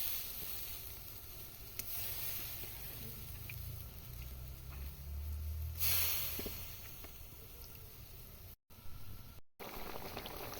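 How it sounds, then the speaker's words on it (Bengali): Snakehead fish pieces frying in a pan with leaves, a soft steady sizzle and hiss close by, with a brief brighter burst partway through and a couple of short dropouts near the end. "মাছগুলো দিয়ে দিচ্ছি।"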